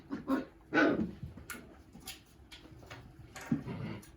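Seven-week-old puppies yelp, bark and whimper in short, sharp bursts that come in quick succession, close by and fairly loud, with no voices over them.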